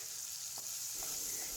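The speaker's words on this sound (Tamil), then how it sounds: "இப்போ நல்லா வதக்கிக்கங்க" Tomato, onion, garlic and peas sauté in sesame oil in a kadai, giving a steady, soft sizzle with a couple of faint stirring clinks, and no one speaks.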